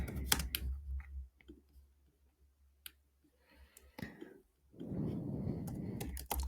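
Typing on a computer keyboard comes through as scattered clicks and short bursts of keystrokes, fairly faint and close, with a soft breathy sound and a stretch of muffled rustling toward the end.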